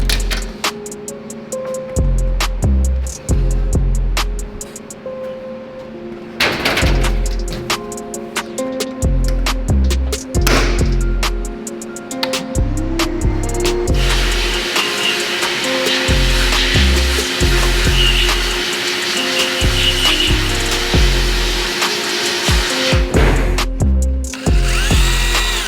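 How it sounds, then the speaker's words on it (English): Sandblasting the case of a transmission being fitted to a rebuilt, previously totaled 2021 Civic Type R: loud, close bursts of hissing blast noise that start and stop repeatedly, then settle into one long sustained blast, over rhythmic low thumping from a compressor. "I am gonna go ahead and sandblast this area right here on this case"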